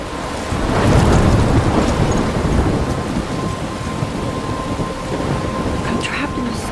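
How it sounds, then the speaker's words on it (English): Thunderstorm in the Life Is Strange video game: heavy rain hisses continuously while a deep thunder rumble swells early and lingers, loud and enveloping, with no speech. "I'm trapped in a storm?"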